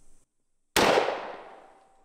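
A single sharp gunshot from a 7.62x39 rifle in a ranch destruction video game, one loud crack after a brief silence followed by a decaying echo tail.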